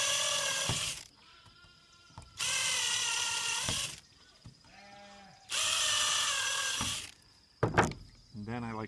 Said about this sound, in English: And then I put at least three screws, I drill three holes.